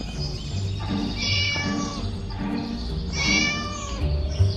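A cat meows repeatedly in the Scary Teacher video game, several drawn-out rising and falling cries layered over game music and background sound, loud and close.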